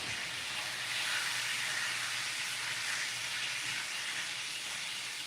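Cube steak fries in a pan, giving an even, continuous hiss of sizzling fat that holds steady throughout with no voices.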